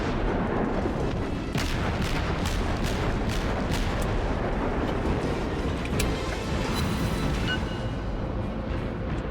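Battleship main guns fire in the World of Warships naval game, a dense, loud rumble of booming salvos and sharp blasts repeating throughout against a constant low roar.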